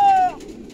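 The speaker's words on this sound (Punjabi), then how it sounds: "ਕਬੂਤਰ ਉਸਤਾਦ ਕੇ ਉੱਠ ਗਏ" A pigeon gives one short, close, tonal coo that fades quickly, with a faint, soft flutter trailing after it.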